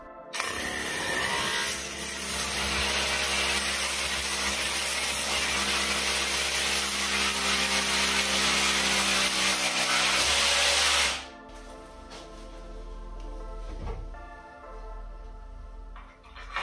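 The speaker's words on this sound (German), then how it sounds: "So, bohre ich jetzt fest und dann ist es gut." A power drill screws into a metal drywall frame in one long, loud, continuous whine that lasts about ten seconds, then stops abruptly, leaving quieter workshop noise.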